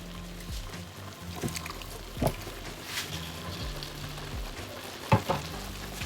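Meat frying in hot oil in a pot during home meal prep, a steady soft sizzle running throughout with occasional clinks and stirring bumps, fairly quiet and close, no talking.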